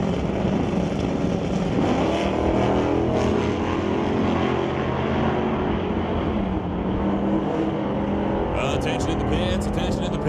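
Drag race between a 1970s Chevelle and a Bel Air at a pro race: dense, loud, continuous roar of engines at full throttle that holds steady throughout, with a brief chatter near the end.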